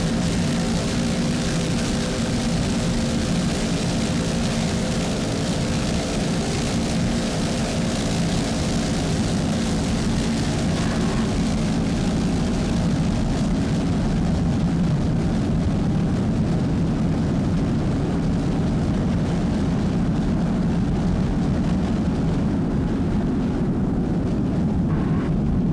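A helicopter filming an ice race with spectator boats nearby gives a continuous engine drone and rotor hum through the whole stretch, steady and fairly loud, with no speech over it.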